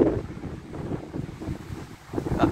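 A mistral wind storm gusting at 110 km/h in Saint-Rémy-de-Provence roars and buffets the microphone in continuous heavy rumbling surges, rising and falling with each gust, with no voices.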